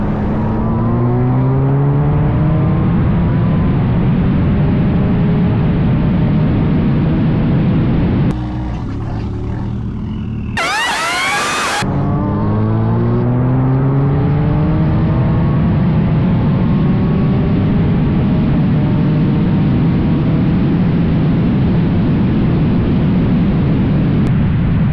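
A Volkswagen GTI and a Subaru WRX, each pushing over 400 wheel horsepower, race on a street, engines wailing loudly and rising through repeated gear pulls, with a brief harsh burst of noise midway through.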